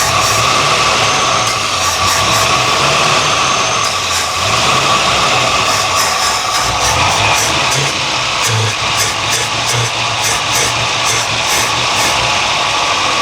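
An old Ford engine runs steadily and loudly as the throttle is worked to clear the carburetor, giving a continuous rough roar with slight rising and falling surges and a few sharper bursts.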